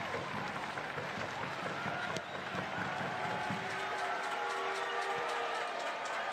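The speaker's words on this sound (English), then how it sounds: "Rowdies fans calling for a big run" A stadium crowd of Tampa Bay Rowdies fans cheers during a soccer match against Pittsburgh Riverhounds SC, a dense, steady roar that holds throughout with a commentator talking over it.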